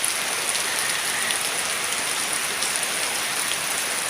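Heavy rain pours steadily and close by, a dense, even hiss of drops drumming on surfaces for the whole stretch, with no voices over it.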